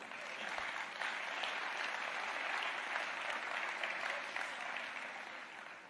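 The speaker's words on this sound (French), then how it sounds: "Donc, messieurs, vous pouvez doublement nous applaudir" Audience applause at a university speaking event, a steady dense wash of clapping from many hands sustained throughout with no talk over it.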